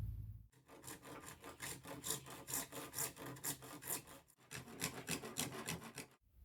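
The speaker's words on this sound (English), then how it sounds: "I'll run the saw right along the edge of the board" A hand saw cuts along the edge of a reclaimed perspex board with rhythmic back-and-forth rasping strokes. They are close and fairly quiet, with a brief pause midway before the sawing resumes and then stops.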